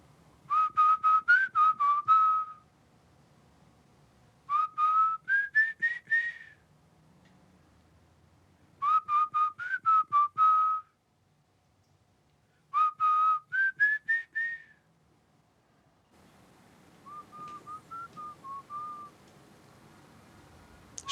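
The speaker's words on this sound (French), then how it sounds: "C'est quelqu'un qui siffle et qui passe devant la maison." Someone whistles a melodic tune in short phrases, pausing between each, clear and fairly close, with the last phrase softer.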